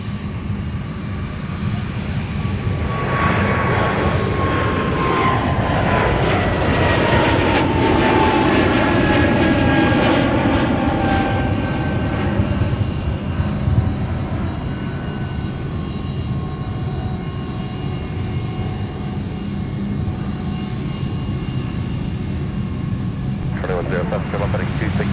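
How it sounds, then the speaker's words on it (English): A UPS jet taxies on taxiway Mike at MSP airport, its engine whine rising and lingering at a moderate distance for a long stretch, with people talking over it. "usually these UPS jets are going the other way on taxiway mic"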